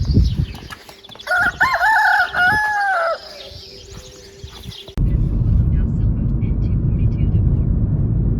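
A rooster crows loudly nearby once, with chickens clucking around it at morning feeding, then the scene switches abruptly to steady rumbling background noise.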